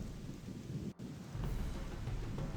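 Rain and thunder in the Gothic Archolos video game: a steady hiss of rainfall with a deep rumble that swells after a brief dropout and rolls on, heavy and close.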